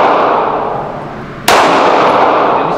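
Two Glock 45 MOS pistol shots boom on a firing range, the first ringing out already underway and the second cracking sharply at mid-point, each trailing a long echoing tail.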